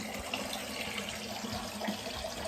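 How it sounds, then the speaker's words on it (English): Cold water runs from a tap into a bath, a steady, dense rushing and splashing that fills the whole stretch at close range. "Cold water's running in the bath."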